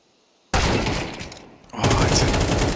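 Counter-Strike gunfire at a pro esports match, loud shots kicking in abruptly after a quiet start, then a dip and a second dense burst of rapid firing.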